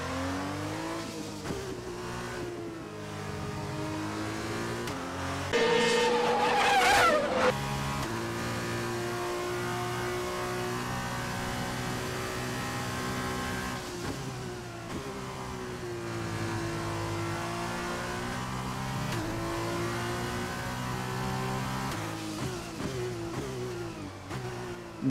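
A Formula 1 car in the F1 2021 game at Silverstone on its last lap, engine droning loud and steady with shifting gear pitch, a brief squeal of sliding tyres early on as the car nearly spins.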